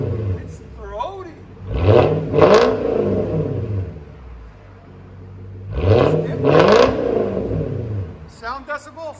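A Japanese V8 car engine revs twice in quick succession, each blip rising into a throaty roar and falling back to a low idle, close and loud, with a brief rev again at the end.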